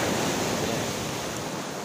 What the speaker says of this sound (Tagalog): Ayan, medyo malaki ang alon.